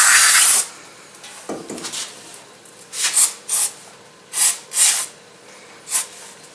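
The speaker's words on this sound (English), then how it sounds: "Once the brake pads are removed, clean the caliper with brake cleaner." Brake cleaner sprays onto a car's brake caliper with the pads removed: a long hiss at the start, some faint rubbing, then several short, close sprays in an irregular rhythm.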